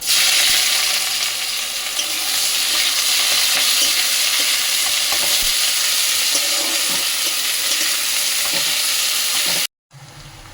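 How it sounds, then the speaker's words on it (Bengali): Onions dropped into hot oil for a fish curry with cauliflower and potato, a loud close continuous sizzle and crackle that holds steady for about ten seconds before cutting off abruptly. "এরপরে সঙ্গে সঙ্গে আমরা দিয়ে দিচ্ছি তেলের মধ্যে পেঁয়াজ।"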